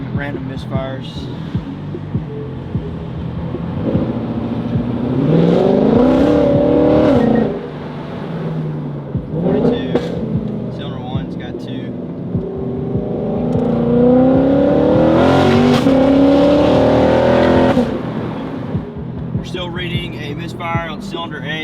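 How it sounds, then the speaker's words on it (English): A Corvette V8 with a flashing check engine light and random misfires, cylinder 8 among them, revs under load in two long swelling pulls, loud and rough, with people talking between the runs. "We've got a flashing check engine light right now under load."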